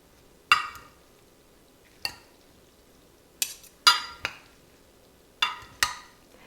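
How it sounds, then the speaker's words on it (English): Green beans and onions being tossed with mustard dressing in a dish, a handful of separate sharp clinks and scrapes spaced a second or so apart, close and clear against quiet. "And mix everything together."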